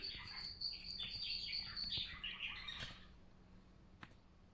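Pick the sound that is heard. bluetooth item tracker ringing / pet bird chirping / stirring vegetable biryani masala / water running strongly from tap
pet bird chirping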